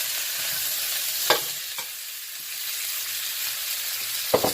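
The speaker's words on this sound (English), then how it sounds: "And we're going to saute this for 3 or 4 minutes until it gets soft." Cauliflower sizzles in a hot pan while being sautéed, a steady frying hiss broken by a few brief stirring scrapes.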